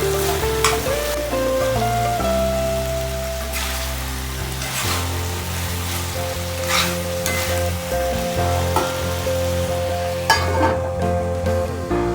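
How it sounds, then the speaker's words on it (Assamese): Loud continuous sizzling of chicken and potatoes frying in a pan, with scraping stir sounds and background music playing throughout. "অলপ সময় আকৌ মাংসখিনি ভাজি থাকিলোঁ"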